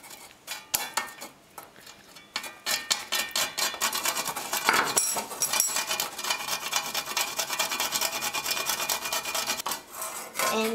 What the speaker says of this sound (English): we're going to grate a little bit of nutmeg into the spice paste